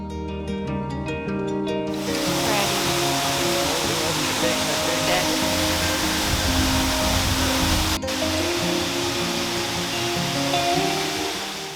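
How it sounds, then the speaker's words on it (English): Marymere Falls on Washington's Olympic Peninsula, a broad steady roar of falling water that stays loud and continuous, following a few seconds of music at the start. "And just like that, we made it to the waterfall."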